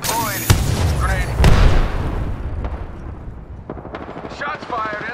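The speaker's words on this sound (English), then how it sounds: "Shots fired." Gunfire in the video game Apex Legends: sharp bursts near the start, then a rapid run of shots toward the end, loud and close, with game voices talking over parts of it.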